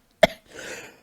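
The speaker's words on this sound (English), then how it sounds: "that was a real ass cough" A single sharp cough bursts out close to the mic, followed by a short breathy exhale that fades away into quiet.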